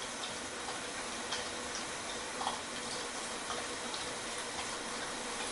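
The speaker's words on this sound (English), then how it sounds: "That sounds like water getting ready to boil." Water heats toward a boil on a SuperCat stove, a faint steady hiss and low rushing with scattered soft ticks and pops, quiet and continuous throughout.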